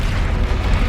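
Bombarda and Confringo explosion spells cast in combat in Hogwarts Legacy on Xbox, heard as a loud, dense, continuous rumbling blast with heavy low boom and broadband crackle filling the whole moment, with no talking.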